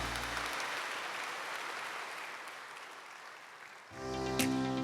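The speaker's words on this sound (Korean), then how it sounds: "네, 다시 한번 크게 박수해 주시기 바랍니다." A church congregation at a Sunday worship service applauds in a sustained, fairly soft wash of clapping that thins out before music comes in near the end.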